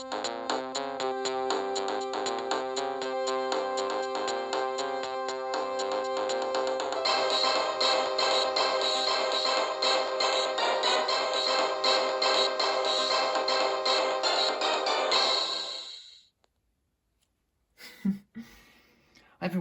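A Panasonic KX-TG6841 cordless phone ringtone plays a loud, bright electronic melody in repeating phrases for about fifteen seconds, then stops, leaving a short silence and a few faint handling noises.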